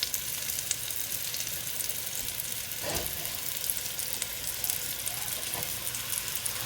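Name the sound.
beef chunks searing and sizzling in a pan for stew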